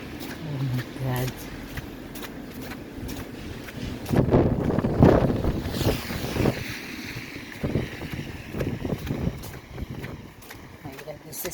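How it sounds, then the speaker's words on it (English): Strong wind with snow, roaring and buffeting the microphone in surging gusts that swell and ease, with a voice speaking faintly at times. "My god, this is so terrible wind."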